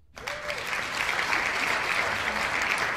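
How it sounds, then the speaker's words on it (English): A studio audience applauds guest Olivia Wilde on a talk show. Full, sustained clapping rises sharply at the start and stays loud and steady. "one more round of applause for our guest"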